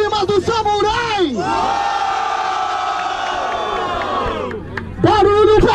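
A live crowd at a Brazilian rap battle roars and cheers in a long sustained wave, loud and dense, framed by a voice shouting at the start and end.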